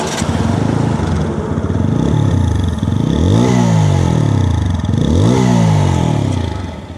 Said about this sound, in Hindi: इसका जो एग्जॉस्ट साउंड है ना, काफ़ी ज़्यादा बेस एयर बिल्कुल फील होती है